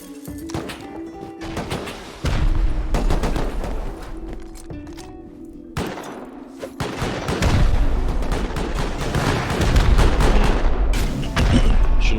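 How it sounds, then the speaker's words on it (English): Grenade blasts and rapid gunfire ring out in a video game firefight around a compound, with sharp bursts of shots and heavy booms coming in waves, loud and close. "tossing nades in their compound right now."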